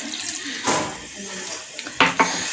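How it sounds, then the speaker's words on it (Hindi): Water poured into a pot of chicken korma on the stove, a soft splashing pour with two sharper splashes near the end, close and moderately loud. "1 कप मेरे पास यहाँ पे पानी है, ये मैं शामिल कर दूंगी इसमें"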